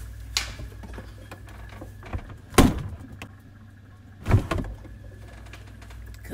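An oven door is handled while food goes in, giving a few sharp clunks and thuds of varying loudness, with a faint mechanical hum and small clicks in between.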